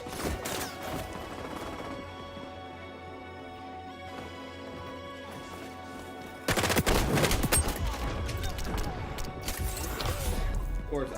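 Video game gunfire that erupts partway through as dense rapid-fire bursts and crashes, loud and close. A quieter stretch with game voices and sound comes first.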